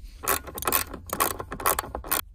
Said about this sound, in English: grab your 12 millimeter socket. We're going to start using it to go ahead and pull up three bolts